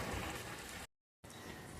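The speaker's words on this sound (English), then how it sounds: "It's raining intermittently outside, and it's a little bit overcast" Intermittent rain falls outside on an overcast day on Jamaica's south coast, heard as a dense, steady hiss of drops that cuts out briefly before resuming.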